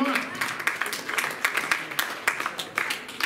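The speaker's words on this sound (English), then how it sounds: "please clap for all the women for having Women's History Month" Audience clapping for the women during Women's History Month at a comedy show in Nevada, Iowa: a dense, steady wash of many hands applauding from a crowd, moderately loud with no talk over it.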